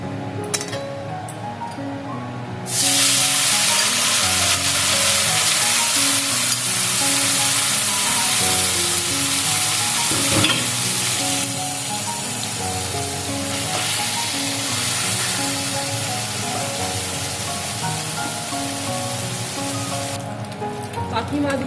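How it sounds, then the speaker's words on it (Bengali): Small fish fry in hot oil in a kadai with a loud, steady crackling sizzle that swells after a quiet start, holds for most of the stretch with occasional clinks, then eases slightly near the end. "বাকি মাছগুলো আমি এইভাবে ভেজে নেব।"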